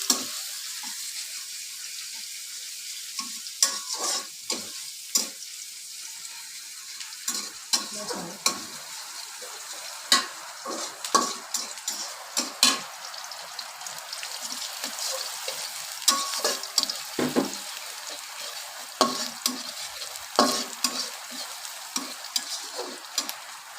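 Chopped onion fries in a pan with a steady sizzle while being stirred, giving frequent scraping, clattering strokes at an irregular rhythm, close and fairly loud, with no talk.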